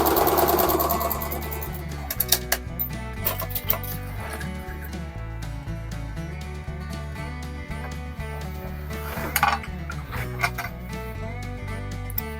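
A sewing machine stitches a pocket tube onto denim jeans, its motor running loud and steady with a fast mechanical rattle throughout, close up and without talk.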